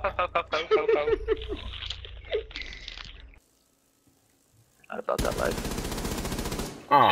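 Rapid automatic gunfire in the tactical shooter Rainbow Six Siege, dense bursts of shots at first, then a near-silent gap, then a long sustained roar of firing, all loud and close.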